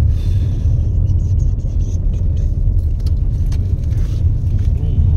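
Steady low rumble of a car driving along a road in Fordville, North Dakota, heard from inside the cabin, continuous and fairly loud with faint background voices.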